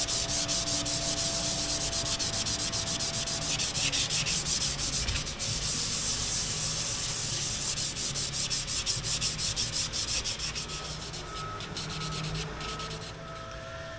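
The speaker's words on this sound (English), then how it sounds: "what I've got to do first is just rub these back a little bit. I've just got some 400 grit." Rapid back-and-forth rubbing of 400 grit sandpaper on boat propellers, a steady close scratchy rasp that goes on without pause and eases slightly near the end.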